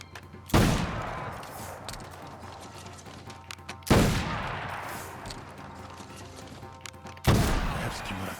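Teppo matchlock gunshots in Assassin's Creed Shadows: three sharp, loud reports spaced about three seconds apart, each followed by a fading rumble over steady game ambience.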